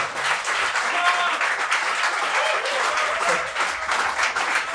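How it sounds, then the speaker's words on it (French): Audience applause fills a live stage show with an orchestra, dense steady clapping sustained throughout at close range, with a voice speaking faintly over it. "Je vais vous demander d'applaudir encore"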